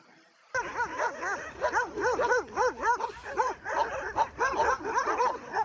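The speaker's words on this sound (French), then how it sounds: "Bagarre de chien, là." Dogs scuffling in a fight, a rapid run of yelping, whining barks and snarls rising and falling in quick bursts, close and loud throughout.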